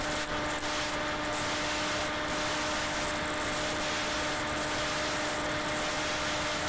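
Home-built FPV aircraft motors drone steadily in flight, then ease back in pitch as the throttle is reduced; a continuous, loud hum with some wind buffeting and no talk.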